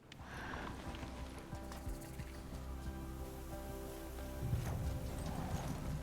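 Horse hooves clip-clopping in Horizon Zero Dawn, a steady soft rhythm of game footfalls over low ambient hum and music, growing slightly louder near the end.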